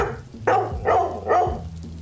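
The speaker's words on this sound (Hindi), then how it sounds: "जान हॉल में लगे टीवी स्क्रीन पर चल रही सीसीटीवी फुटेज को देखकर भौंक रहा था।" A pet dog barks at CCTV footage on a TV screen in a house hall, giving about three sharp barks in an irregular rhythm, close and fairly loud, with a low hum underneath.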